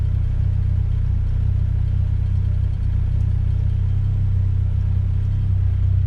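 Ford Sierra fitted with a Duratec engine idling steadily, a close low rumble with an even hum and no rise in revs.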